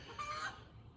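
A single brief, faint chicken cluck in a backyard garden coop, heard alone against quiet outdoor background.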